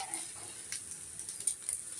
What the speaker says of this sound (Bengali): দেখেন তো আমার ডিম ভাজিটা কেমন হইতেছে